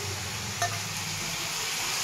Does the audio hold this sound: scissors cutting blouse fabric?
no